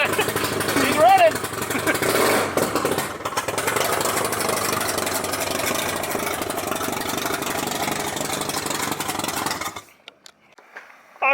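A Mazda FC RX-7 rotary engine running, a loud, rough, buzzy engine note held steadily for about ten seconds up close, then stopping abruptly into near silence.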